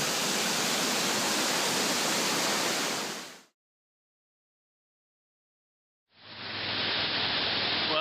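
A steady roar of rushing water from Gooseberry Falls in Minnesota, cutting off abruptly into silence and then returning.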